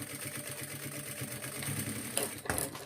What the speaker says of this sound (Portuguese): continuar costurando lá daquele ponto que eu parei e finalizar lá em cima da outra costurinha